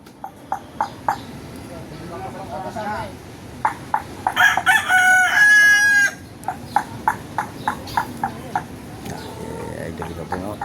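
A red rooster crows loudly once in the middle, surrounded by repeated clucking and a voice speaking nearby.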